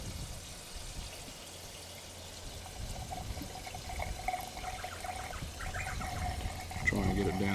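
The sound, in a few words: pouring fuel into the carburettor of an Austral Model K engine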